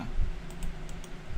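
A few light key clicks sound on a Razer Tartarus V2 gaming keypad, sparse and quick over a low background rumble.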